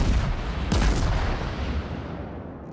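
Heavy naval guns fire in World of Warships as a battleship engages a New Mexico, one deep booming blast landing near the start over a constant rumbling battle bed, with no talk.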